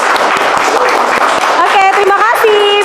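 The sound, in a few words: classroom clapping for a group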